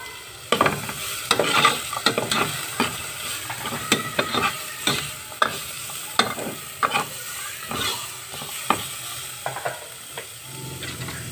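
Ginger sautéing in a pan for chicken tinola, with a soft steady sizzle under repeated scraping and clinking strokes of a utensil stirring it, fairly close and moderately quiet.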